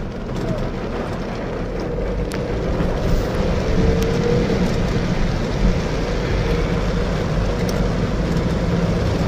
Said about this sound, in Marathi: इतका पाऊस वाढलेला आहे